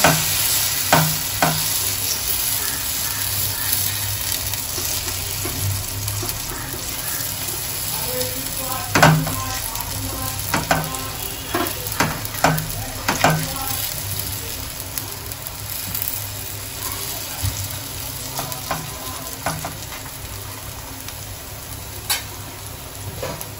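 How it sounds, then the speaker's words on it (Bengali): Semolina vegetable pancake batter sizzles steadily in a hot pan, with scattered clicks and light scrapes from a utensil over the continuous frying hiss. "এইভাবে আমি এই প্যানকেকের ব্যাটারটা দিয়ে দিচ্ছি"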